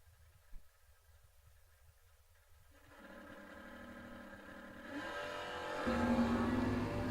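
Dodge and Camaro drag cars launching at a bracket race start line, heard from a distance: engines build from faint rumble to a rising, louder roar over several seconds.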